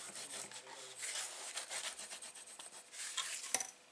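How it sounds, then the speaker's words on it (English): A tool rubs and scrapes quietly as paper is burnished into place on a gift box, with a steady close-up friction sound that swells in short strokes and ends in a slightly sharper scrape. "we're going to burnish that into place"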